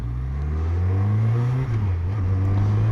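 A Yamaha 900 Diversion motorcycle with 40,000 km revs up under acceleration, its pitch rising steadily, briefly dipping at a gear change, then climbing again, loud and close.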